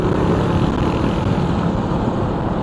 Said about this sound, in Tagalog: Grabe yung scooter ni Manning June